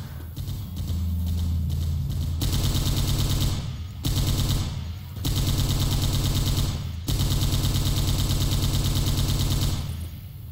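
Gunfire in the Left 4 Dead 2 video game, with the players shooting at the Witch. Loud, rapid automatic bursts come in long stretches separated by brief gaps, each one a dense rattling volley.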